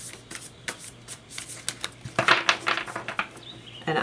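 Someone shuffles a deck of tarot cards close by, making a run of quick riffling flutters and soft taps that build into denser bursts toward the end, with no talk.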